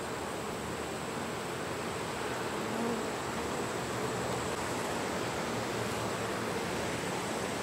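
Honey bees buzzing in a hive being worked, a steady dense drone that holds evenly throughout at a moderate level with no talking.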